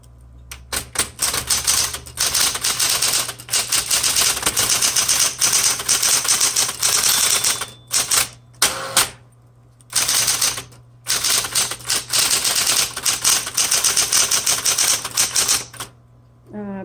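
A 1960s Smith Corona Coronet Automatic 12 electric typewriter clatters through fast bursts of keystrokes. Sharp strikes run over a steady motor hum, with brief pauses and a carriage return in between.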